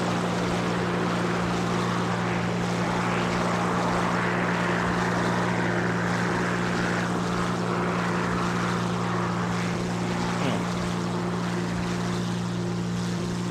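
A ground attack aircraft in War Thunder climbs away at full throttle, with a constant loud engine and propeller drone and a rushing wind layer, steady throughout.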